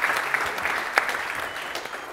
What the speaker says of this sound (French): Et on peut l'applaudir, s'il vous plaît